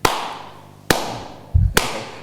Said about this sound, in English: clapped his hand 3 times